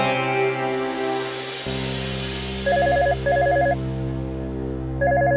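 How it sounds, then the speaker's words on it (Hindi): A telephone rings on an outgoing call, with a dial tone followed by three bursts of repeated ringback chirps. It is fairly loud and close, with no talking. "हम अभी फोन लगाते हैं"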